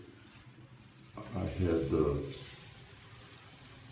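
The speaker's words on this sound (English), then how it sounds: "Just a second here, turn the water on." Water runs from a Hotel Spa AquaCare high-pressure 8-mode handheld shower head, rising to a steady close hiss and spray after a short quiet start, while someone speaks briefly over it.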